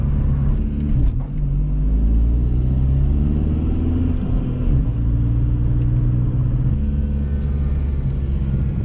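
A 2003 VW Jetta TDI Wagon diesel pulls hard in third gear, its engine drone loud and steady with rising harmonic bands, a continuous close rumble and no voices.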